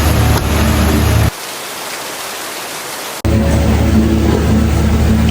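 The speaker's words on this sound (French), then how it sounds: "il pleut. Regardez ça." Steady rain hisses as a broad wash of noise, loud and close, dropping to a softer patter for a couple of seconds before swelling back.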